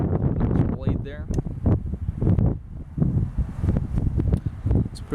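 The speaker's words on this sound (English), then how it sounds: "Excuse the wind, by the way. It's a bit windy today," Strong wind buffets a microphone outdoors during a knife review, a continuous low roaring rumble that surges and dips over the whole stretch, loud and close, with someone talking through it.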